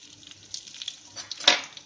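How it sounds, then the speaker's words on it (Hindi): Asafoetida, whole red chillies and coriander seeds sizzling in a tablespoon of hot oil, a short, soft, close crackle that swells into one louder burst of spitting near the end, with no talking. "अब इसमें डालेंगे हींग थोड़ा सा और साबुत लाल मिर्च, साबुत धनिया।"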